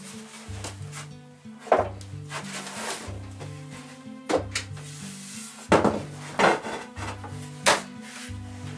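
A folding wooden workbench is taken down, giving a series of wooden knocks, scrapes and clunks at an uneven pace, fairly close and moderately loud.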